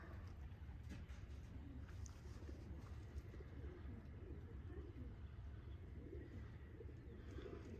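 Pigeons coo softly around a backyard loft and aviary, low murmuring calls rising and falling under steady outdoor rumble, with a few brief higher chirps scattered through.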